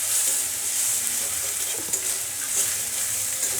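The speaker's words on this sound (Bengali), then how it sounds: "এখন আমি মশলাটাকে ভালো করে ভেজে" Ground spice masala with coriander and cumin powder frying in oil in a pan, a steady close sizzle with faint stirring scrapes, loud and continuous throughout without any talk.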